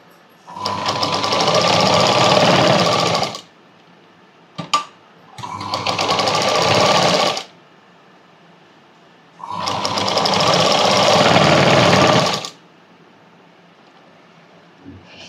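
A sewing machine stitches the puff sleeve of a blouse in three loud, steady runs of whirring, separated by short pauses, with a brief click between the first two runs.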